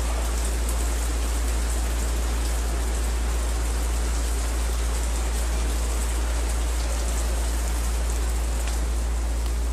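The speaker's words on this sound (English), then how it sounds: "When we were there, it was raining." Steady rain falling in Venice, Italy, a dense continuous hiss of drops with an even low rumble beneath, no voices.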